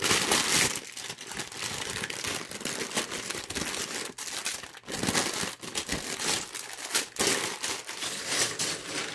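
Plastic bags of Lego parts from the Lego Creator Expert 10278 police station set crinkle and rustle continuously as they are handled and opened, close and fairly loud, with sharp crackling bursts.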